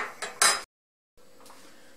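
A metal pot clinks and clatters a few times in a home kitchen while whey is being strained off cottage cheese, followed by a brief silence and then a low steady background hum.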